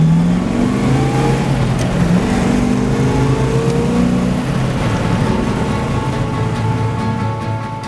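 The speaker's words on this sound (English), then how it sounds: "This week we're riding along in a 1963 Chevrolet Corvette Stingray Coupe." A 1963 Chevrolet Corvette Stingray Coupe drives along, its engine humming and rising steadily in pitch as it accelerates, heard continuously from nearby with no talking.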